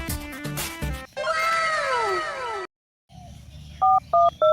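A phone sounds with three short, loud repeated electronic tones near the end, following cat-like meowing sounds and a brief silence.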